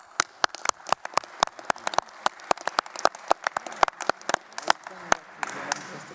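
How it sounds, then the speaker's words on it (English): Conference audience applauding at the close of a session in a convention hall, a few scattered sharp claps rather than a dense ovation, fairly close and tapering off toward the end. "please give everyone a round of applause."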